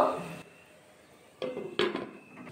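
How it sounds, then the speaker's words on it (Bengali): A metal lid set onto a cooking pot while making danadar sweets: a faint rustle, then two close clanks of metal on metal in quick succession, followed by a lighter rattle. "এবার ঢাকা দিয়ে দেবো।"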